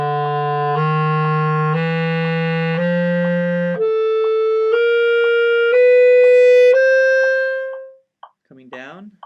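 A clarinet plays a chromatic scale slowly, climbing step by step in sustained, evenly spaced notes from low to high, then fading out, with a brief faint voice at the very end.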